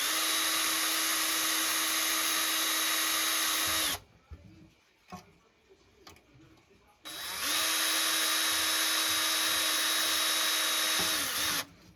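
A loud, steady high-pitched power drill whine runs for several seconds while drilling into an arcade cabinet, stops briefly with quieter handling noises, then resumes just as strongly.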